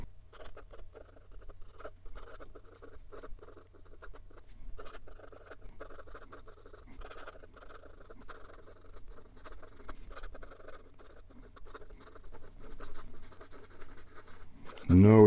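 Sheaffer Craftsman Touchdown fountain pen with a very thin, wet nib moving quickly across paper, giving a steady soft scratching patter throughout, with a louder bump right at the end.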